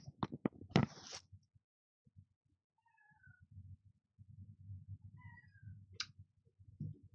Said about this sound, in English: You will hear my cat. She's talking a lot today.